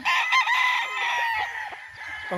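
A Kelso rooster crows loudly and close on a farm, one drawn-out call filling most of the moment before trailing into softer clucks.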